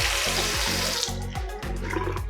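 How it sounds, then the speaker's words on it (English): A tap runs into a sink set in a homemade vanity built from 2x4 lumber. Water pours steadily and close, with a rushing hiss and a low, pulsing gurgle underneath. "I got a freaking sink. I have running water."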